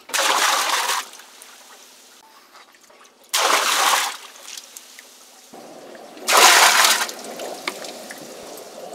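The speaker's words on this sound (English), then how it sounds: "so the only way is to bucket the water out." Water bucketed out of a narrowboat's 150-gallon water tank: three loud splashing pours, near and alone, separated by quieter gaps with a faint low hum.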